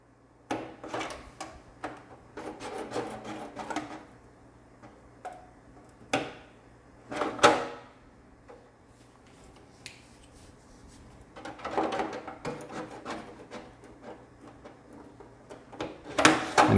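Scissors snip repeatedly around the wheel wells of a painted RC car body, making short pie cuts; sharp clicks and crisp snips come in irregular clusters, close and fairly loud with quiet gaps between them.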